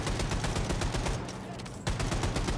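Rapid, continuous shotgun fire in Wolfenstein II: The New Colossus, with loud bursts following in quick succession and a brief dip before the firing resumes.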